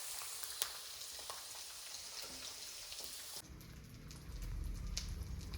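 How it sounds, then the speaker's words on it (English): Squid pieces dropped into hot oil over a high flame set off a steady crackling sizzle that swells louder and denser partway through, close up with no talking. "Add the squid when the oil is heated. Fry it by keeping it in the high flame."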